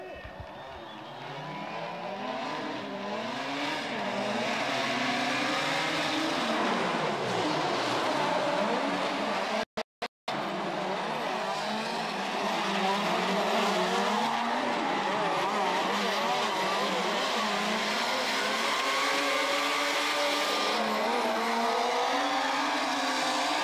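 Drift cars run at an RDS GP round in Krasnoyarsk, with loud engines rising and falling and long tire squeals. After a brief cut near the middle, the screeching continues steadily for over twenty seconds.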